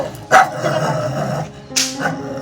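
A dog gives a couple of sharp barks with whimpering yips between them, close and loud, with other voices faintly in the background.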